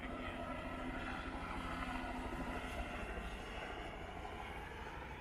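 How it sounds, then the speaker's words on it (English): A helicopter ferrying people from a beach to Mitchell Falls in the Kimberley gives a faint, steady rotor and engine drone at a distance, with no voices. "On the beach, 2 helicopters were ready to ferry people to the falls."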